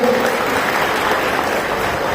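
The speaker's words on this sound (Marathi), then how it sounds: "सगळ्यांसाठी टाळ्या झाल्या पाहिजे" Steady, dense applause from an audience at a political welcome ceremony held for a new party member, clapping continuously and fairly loud throughout.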